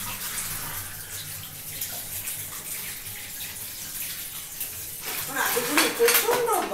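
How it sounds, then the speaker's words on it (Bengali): Peeled vegetables being washed in a sink or bowl for a mixed vegetable khichuri, with steady running, splashing water and a louder burst of sloshing and clatter near the end. "এগুলো সব আমি ছাড়িয়ে নিচ্ছি, সব ভালো করে আবার একটু ধুয়ে নিই।"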